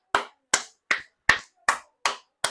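Seven crisp, evenly spaced hand claps ring out alone at a steady, deliberate pace, each one sharp and clean against silence.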